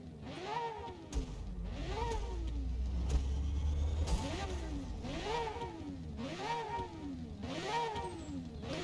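A rotary-engined race car revs repeatedly, its pitch sweeping up and falling back in a steady series of sharp throttle blips, loud and close, with a brief low rumble early on.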